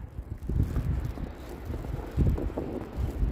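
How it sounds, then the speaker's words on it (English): Strong wind gusts buffet the microphone during a snowstorm walk in downtown Toronto, a low, rumbling roar that surges and eases in uneven waves. "Right now the wind is proving to be the main factor."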